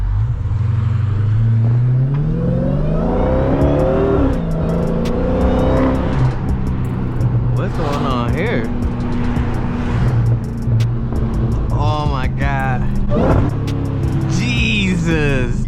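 A Dodge car engine idles and revs nearby, heard through an open window, a deep rumble with swelling pitch, while a person talks intermittently over it.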